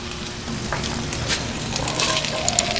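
Ground beef with carrots sizzles in a pan while being stirred, steady frying crackle with scraping spoon strokes close by.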